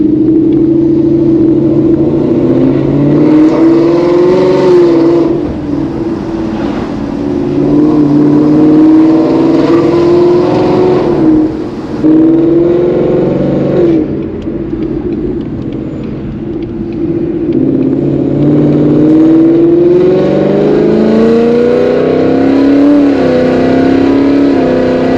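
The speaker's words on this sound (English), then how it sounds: "Catless long tube headers, Corsa Extreme exhaust, and that's all it is." A loud straight-piped S550 Ford Mustang V8 with catless long-tube headers and Corsa Extreme exhaust rumbles and revs repeatedly at night, engine pitch rising and falling through gears, close and continuous with no talking.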